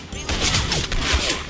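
FAMAS Black rifle in the video game SF2, rapid automatic fire in a loud, continuous burst of overlapping shots with game ambience behind.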